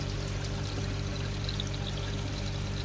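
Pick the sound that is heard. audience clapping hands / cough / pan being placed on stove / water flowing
water flowing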